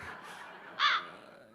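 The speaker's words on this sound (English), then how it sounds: "So that's the crow." A single loud crow caw, played as a sample during a live coding music performance, rings out briefly over a faint hiss and low background hum.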